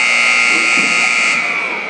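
Loud, sustained electronic buzzer sounding the end of the second period at a Dorchester Dolphins hockey game, a steady harsh drone lasting nearly two seconds with faint arena noise beneath.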